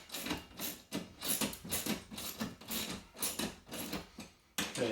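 A screw is tightened to mount a TV wall bracket, making a close series of irregular ratcheting clicks and scraping turns with short pauses, faint and without speech.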